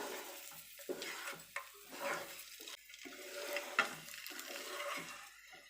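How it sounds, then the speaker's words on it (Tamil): Egg masala being stirred in a pan, with soft scraping and gentle sizzling that come in uneven bursts, close and fairly quiet, and no talking. "நல்லா முட்டையில் எல்லா இடத்தையும் படுற அளவுக்கு நம்ம இதை கிளறி எடுத்துக்கலாம்"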